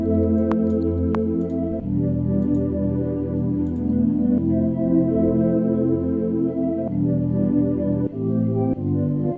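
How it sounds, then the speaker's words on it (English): Epitone pad from the Notenik 2 synth plugin, warm sustained chords changing every couple of seconds, steady and loud with faint tick-like transients early on, no talking. "So Notenik 2 has this cool pad sound. It's called Epitone."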